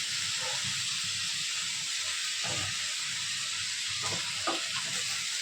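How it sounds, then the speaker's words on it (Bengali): Polao rice frying in a pan with onion, giving a steady close sizzle and hiss throughout, with a few soft scraping stirs and clinks. "আমার চাল কষানো হয়ে গেছে, পোলার চাল ভাজা হয়ে গেছে"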